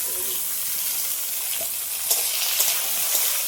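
Eggplant coated in salt and turmeric frying in a pan, a steady close sizzle with faint crackles and a few soft stirring clicks, no voices.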